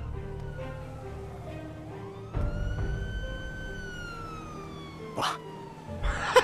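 A police patrol car in a GTA roleplay game passing with its siren wailing, the tone sweeping up and down over engine and traffic noise, with a couple of sharp knocks and brief background sounds.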